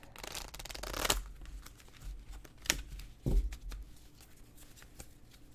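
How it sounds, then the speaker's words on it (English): Tarot cards being shuffled in a few quick riffling bursts, crisp papery flutters separated by short pauses, close by. "Give these a really good shuffle here."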